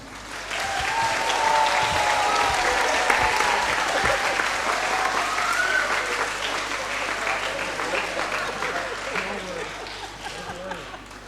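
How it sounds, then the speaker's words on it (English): Audience applause at a school spring concert for 10- and 11-year-olds, a sustained full wash of clapping from a large crowd, loud and continuous, with some voices mixed in underneath. "we want to give a huge round of applause to Mr. Stiegel"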